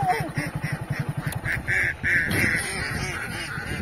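Several ducks quack in quick repeated bursts, fairly close, with a few louder calls and some background chatter from people nearby, at Pansua Dam, Sonua, West Singhbhum, Jharkhand.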